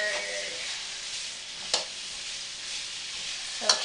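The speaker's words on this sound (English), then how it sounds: "So I'm going to stir this some more." Pork belly fries in a pan while being stirred, a steady close sizzle broken by two sharp scraping strokes of the utensil against the pan.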